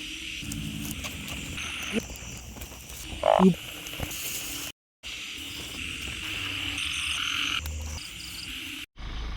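Frogs and narrow-mouthed toads croak steadily at night during rain, a dense chorus of overlapping calls mixed with insect chirps, close and continuous, with brief breaks where the sound cuts out.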